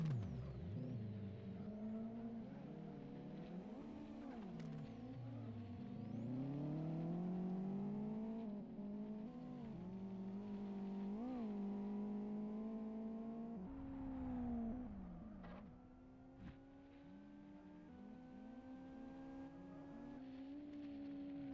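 Several race car engines idle and rev in a Live for Speed rallycross championship session, a steady harmonic drone that rises and falls with blips, fairly close and alone with no talk over it.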